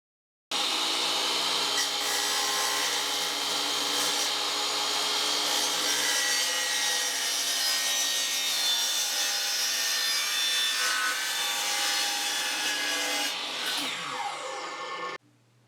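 Saw cutting through a bowling ball held secure on a piece of wood: a continuous rasping, scraping stroke sound, close and steady for about fifteen seconds, ending abruptly.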